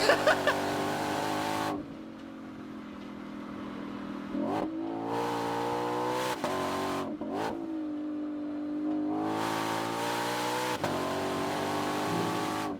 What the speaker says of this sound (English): I know everybody wants to hear this car